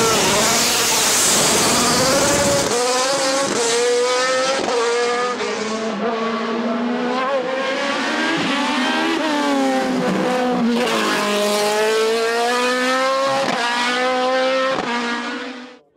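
A Norma M20F race car with a 3-litre BMW engine screams through gear changes on a hill climb course, loud and sustained with rising and falling pitch, then fades out at the end.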